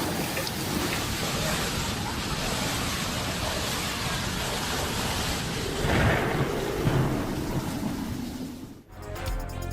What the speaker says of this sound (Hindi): बुर्ज खलीफा में भी बारिश के दौरान आसमानी बिजली कड़कती देखी गई।